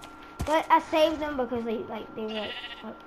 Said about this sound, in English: I think it's kinda sad to see a sheep stuck in the glowstone.